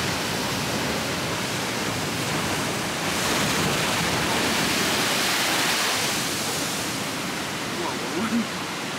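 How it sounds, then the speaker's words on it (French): Ocean waves from the Indian Ocean crash into a rocky cove at Devil's Tears in Bali, a loud, continuous roaring wash of surf and spray that swells and recedes. "une crique donnant sur l'océan Indien, dans laquelle des vagues viennent s'écraser avec une force inouïe"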